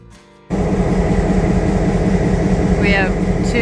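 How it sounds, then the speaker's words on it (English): On the Lehigh Gorge Scenic Railway, a train hauling open-air bike cars climbs uphill. After a quiet half-second a loud, steady rumble and drone of engine and wheels cuts in and holds, with a brief high squeal near the end. "We'll ride the train first on this ride up the Lehigh Gorge, and it's going to go uphill"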